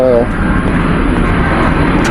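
A military plane passes overhead with a loud, continuous roar that swamps everything, after a brief voice at the start.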